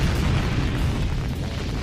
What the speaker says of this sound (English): a rocket must outrun it with the brute force provided by the explosive chemical reaction of burning fuel